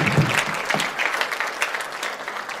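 Audience applause at a short film festival award ceremony at a college in İzmir, a steady dense clapping of many hands lasting a few seconds, loud and close without speech.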